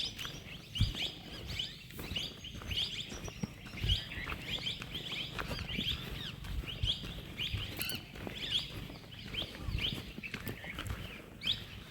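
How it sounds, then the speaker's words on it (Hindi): Many birds chirp and tweet continuously along a forest path, overlapping calls near and far with soft rustling footsteps beneath. "चिड़ियों की मधुर आवाज़ें आ रही हैं"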